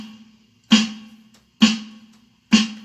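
Snare drum on a kit struck three times alone, each hit a sharp crack with a ringing tone and brief decay, evenly spaced.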